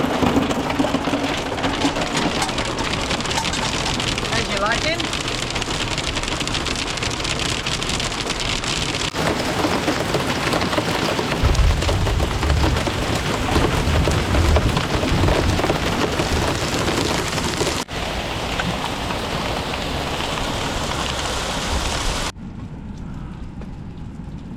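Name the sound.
rain and hail with thunder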